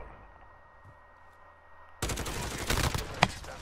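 Gunfire erupts in Call of Duty Modern Warfare on the Rust map after two quiet seconds, loud automatic bursts with a sharp crack near the end, no talking over it.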